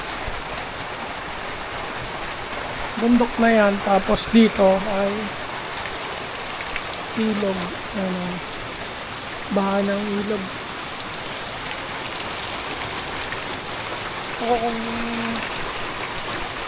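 Heavy typhoon rain pours down steadily beside a hillside house, a constant hiss of downpour heard throughout while a person talks intermittently over it.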